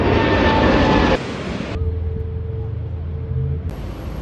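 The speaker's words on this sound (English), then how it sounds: "This is a Boeing 777-300ER United Airlines coming from Los Angeles" A United Airlines Boeing 777-300ER at Sydney Airport gives a loud, steady jet engine roar that drops abruptly partway through and then continues as a lower, even rumble with a faint whine.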